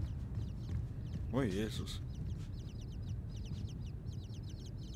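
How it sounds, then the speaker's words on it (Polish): Chicken-like bird clucks and trills from the video game Inside repeat in short rapid bursts, with a louder warbling call in the middle, over a low rumbling background while someone speaks briefly. "Wydaje dźwięki jak te kurczaki."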